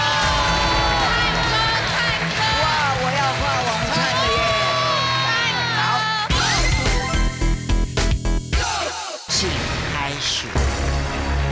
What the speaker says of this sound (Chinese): 让我们热烈掌声欢迎这一位